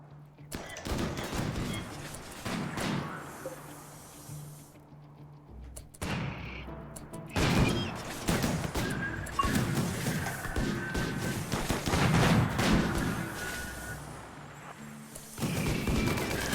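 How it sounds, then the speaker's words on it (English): Gunfire aimed at tactical turrets in the video game RimWorld: rapid bursts of shots and volleys crackling almost continuously at moderate loudness, with brief pauses and impacts between the barrages. "they're shooting at the tactical turrets"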